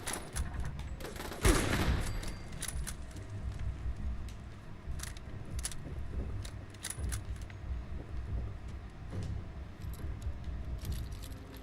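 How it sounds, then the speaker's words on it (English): Turret gunfire in Fallout 76: rapid bursts of shots crackle across the whole clip, with one heavy blast near the start and scattered sharp cracks over a steady background of game noise, no voices. "I'm trying to look at something and turrets spawn and attempt to murder me"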